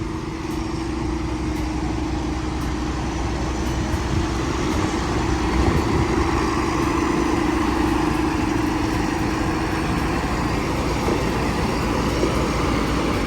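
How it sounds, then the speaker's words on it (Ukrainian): A 6630 tractor's heavy diesel engine idles steadily and loudly for the whole stretch, a low continuous rumble with no voices. "Тракторець 6630 в супер стані."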